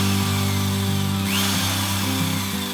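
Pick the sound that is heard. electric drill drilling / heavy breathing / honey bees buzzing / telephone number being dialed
electric drill drilling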